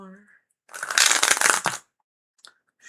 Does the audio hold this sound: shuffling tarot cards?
yes